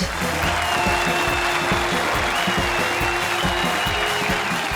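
A studio audience at a television comedy show applauds to welcome comedians onstage, a loud continuous roar of clapping under steady background music.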